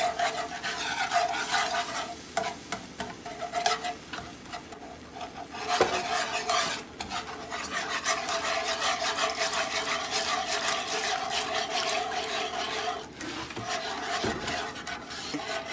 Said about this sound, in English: And you just keep on whisking the whole time.